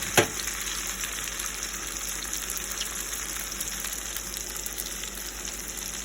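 Pancetta sautéing in a pan for peas, giving a steady, even sizzle that runs close and constant throughout, with one brief clink at the start and no talking.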